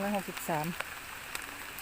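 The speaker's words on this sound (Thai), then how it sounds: "ฝนตกหนักนะพี่น้อง" Heavy rain falling during a monsoon storm, a steady broadband hiss of downpour with a voice briefly speaking over it at the start.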